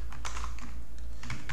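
Rapid keystrokes on a computer keyboard while code is typed, a steady close patter of clicks with small pauses, heard alone without talk.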